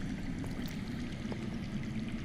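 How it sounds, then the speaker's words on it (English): Water flowing underground in a Game of Thrones game: a dense, steady rush and gurgle of running water, continuous and fairly loud, with no voices. "I hear water. From underground."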